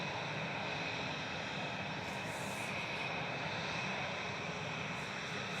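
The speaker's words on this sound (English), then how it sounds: "Singapore 301 heading back to Singapore, 9 VSMQ, A350-900 on the roll." A Singapore Airlines Airbus A350-900 takes off from Manchester Airport, its engines a faint, steady, broad roar heard from far away with no talk.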